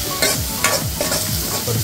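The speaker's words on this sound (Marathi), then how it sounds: "परतून घेऊया." Turmeric being sautéed in a hot pan for dal tadka, with a steady sizzle under repeated rhythmic stirring scrapes of a spoon. It is close-up, with no talking.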